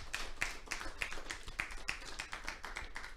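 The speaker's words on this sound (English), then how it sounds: "Please, can you give him a round of applause" Participants in an online video meeting applaud: faint, steady, evenly spaced claps, like one or two people clapping near a microphone, with no talk.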